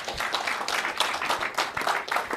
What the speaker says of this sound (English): Big round of applause for Taiwo.